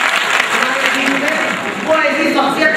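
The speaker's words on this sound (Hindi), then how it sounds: "जोरदार तालियों से सम्मान कीजिए" Audience applause at a Pasmanda Muslim Samaj meeting held in Ravindralaya hall: dense, even clapping from a crowd fills the short stretch, with a voice speaking over it.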